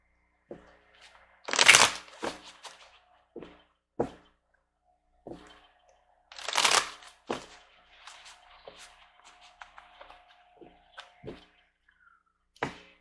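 Tarot cards being shuffled and handled during a reading, heard as two louder riffling bursts among scattered soft clicks, taps and slides of the cards, close and quiet with no talk.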